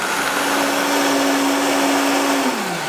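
A Vitamix blender runs steadily at high speed, blending ingredients for a vegan, gluten-free chili: a loud, continuous whirring roar that holds, then slows and winds down in pitch near the end, with no talking.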